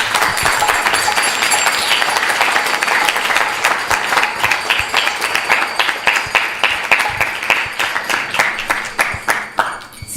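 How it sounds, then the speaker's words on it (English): A temple audience applauds after a class at a Balaram Jayanti Sunday evening gathering, dense loud clapping that holds steady and then thins out into scattered individual claps near the end. "Please give him a big round of applause."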